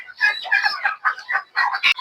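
A pet turkey on a backyard farm gives a run of close, moderately loud gobbling calls in quick choppy bursts, with brief pauses between them and no one speaking.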